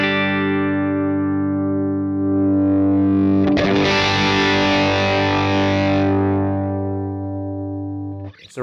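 Electric guitar chords played through a Universal Audio UAFX Ruby '63 top boost amplifier pedal, emulating an AC30: a sustained clean chord swells into a loud, distorted strum that rings out and slowly fades, with no talking.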